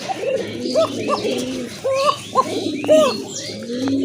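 Fine-voiced Raj Golla pigeons coo again and again, near and clear, one burst after another over a low bed of chirping and other pigeon sounds.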